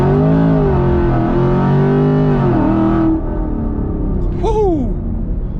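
A Camaro SS with 500 wheel horsepower on E85 accelerates hard, its engine rising in pitch loudly and close before shifting down, then a short whine sweeps through as the revs drop.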